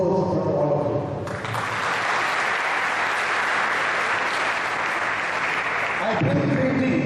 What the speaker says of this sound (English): Reggie Matthews and Joby Achen deserve a big applause from all of you